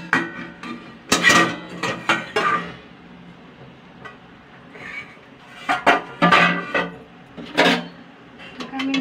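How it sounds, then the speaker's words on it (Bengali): A metal lid comes off a cooking pot of prawn paturi, heard as several close, sharp metallic clanks and clatters spaced irregularly, with quiet stretches between them. "এবার আমি ঢাকনাটা খুলে দেব"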